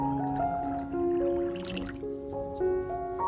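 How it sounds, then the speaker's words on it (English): About 500 milliliters of clean water pours into a coffee-based fertilizer solution, making a close trickling fill with gurgling tones that shift pitch as the liquid level changes. "Finally, I add 500 milliliters of clean water to dilute the solution"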